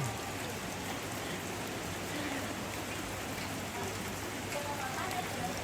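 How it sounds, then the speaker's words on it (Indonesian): Rain falls on an outdoor gathering at a tongkonan during a family memorial service. It makes a steady, dense hiss at an even level throughout, with no clear voices. "Tapi saat ini hujan lagi melanda ini, guys. Kita dilanda hujan."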